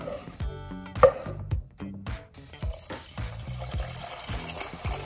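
Water poured into a cooking pot for quinoa, a splashing, gurgling stream with a rising tone as the pot fills, close and clear with no talking.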